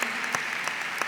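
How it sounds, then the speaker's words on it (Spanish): An audience claps in a brief burst of steady applause at a talk show, with the sharp individual claps sounding fairly close. "Les voy a pedir un aplauso para Quime, que la queremos."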